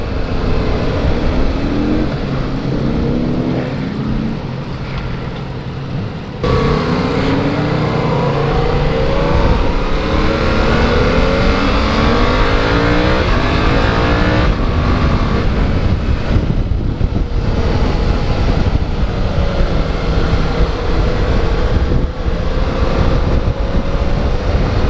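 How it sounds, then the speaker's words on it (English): A 2016 Yamaha FZ-07 motorcycle engine revs and labors roughly through gear changes while riding, loud and buzzy with heavy wind buffeting across the microphone and no talking. "this engine is definitely running pretty rough"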